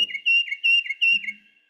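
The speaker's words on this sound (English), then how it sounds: "birdsong you should know number one, Peter, Peter of the tufted titmouse" A tufted titmouse sings its clear whistled two-note phrase three times in quick rhythmic succession, bright and loud against a quiet background.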